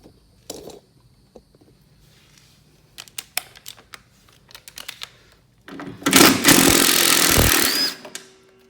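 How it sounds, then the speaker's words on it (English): A cordless impact wrench fitted with a 3/8 inch socket adapter hammers loose spindle bolts on a Husqvarna RZ4623 mower. Scattered tool clicks and taps come first, then one loud, close burst of rattling impacts lasting about two seconds. "I like to use my impact with a 3/8 inch socket adapter"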